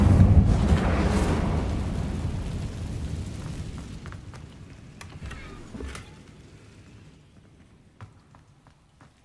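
A fire spell cast in Hogwarts Legacy erupts in a loud, rumbling whoosh that fades gradually over several seconds, leaving faint scattered ticks and small thumps in a quieter tail.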